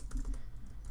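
A chat message typed on a computer keyboard, with soft key taps spread evenly through the moment over a low background rumble and no speech.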